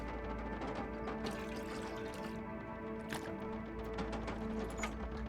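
Continuous liquid pouring and dripping plays in the survival video game The Long Dark while collecting water, a steady moderate wash with small splashy transients under a low hum.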